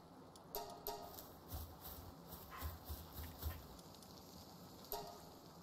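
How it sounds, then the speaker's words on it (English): Creatures barking like dogs in the video game Palworld, faint, scattered barks and yips repeating over several seconds against quiet game ambience. "dogs are barking for no reason"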